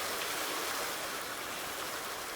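Water pouring from greenhouses in Farming Simulator 19: a steady, dense rushing hiss like heavy rain or a stream, unbroken and fairly loud throughout.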